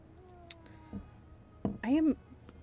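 A cat close by gives one short, rising-and-falling meow near the end, loud against an otherwise quiet room with faint background rustle.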